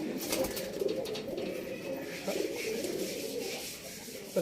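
Low, rolling coos from a pair of mature pigeons, a cock and a hen, carry steadily at close range, with faint talk in the background.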